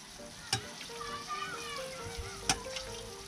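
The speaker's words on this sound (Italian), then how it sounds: "i gnocchi sono pronti e li andiamo a scolare e poi li andiamo a saltare." Gnocchi sautéing in a pan with a splash of pasta cooking water, giving a steady close sizzle and fry crackle with a couple of sharp clinks from stirring, while voices murmur faintly behind.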